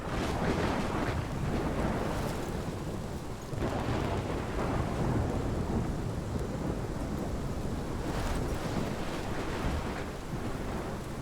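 Thunderstorm in the video game Life is Strange, a dense, steady roar of heavy rain and wind with rumbling thunder swells, continuous and loud throughout, without voices.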